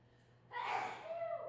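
A single sneeze bursts out abruptly after a quiet moment, fairly soft and nearby, with a breathy trailing tail.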